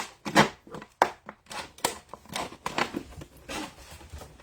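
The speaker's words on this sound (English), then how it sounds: "And take your scissors and just cut you a hole" Irregular crisp snips and crunches of scissors cutting a hole in a plastic bottle, close by, in quick uneven bursts.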